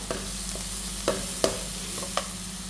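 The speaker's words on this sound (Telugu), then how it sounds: "క్యారెట్ లైట్గా ఫ్రై చేస్తాను" Carrot pieces fry lightly in a pan with a soft background sizzle, broken by a few sharp spatula scrapes and taps spaced unevenly, close by.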